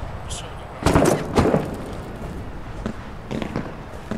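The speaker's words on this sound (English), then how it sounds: "I think that's gunshots from our west." A few sharp gunshot bursts crack out, some distant, against a steady noisy background with a voice murmuring, in the video game Six Days in Fallujah.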